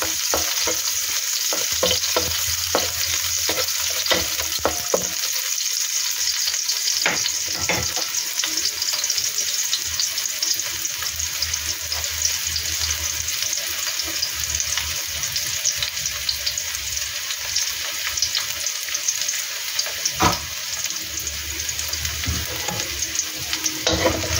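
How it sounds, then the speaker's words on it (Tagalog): Onions sautéing in a pan for pork afritada in tomato sauce, a continuous loud sizzle with repeated scraping and stirring sounds from a utensil, heard close up throughout. "Next naman po is igisa na po natin ang ating sibuyas."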